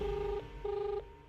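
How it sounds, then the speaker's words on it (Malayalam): A mobile phone rings with two electronic tone bursts, moderately quiet against a low room background, with no talking. "ദേ, മാളുവിന്റെ ഫോൺ ഇപ്പോഴും റിങ് ചെയ്യുന്നുണ്ട്, പക്ഷെ എടുക്കുന്നില്ല"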